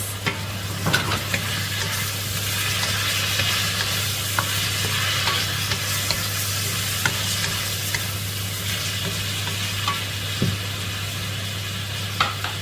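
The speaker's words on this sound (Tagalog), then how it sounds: "Haluin natin" Bean sprouts and tofu are sautéed in a pan, giving a continuous close sizzle with light stirring scrapes and an occasional clink across the whole stretch. A low steady hum runs underneath.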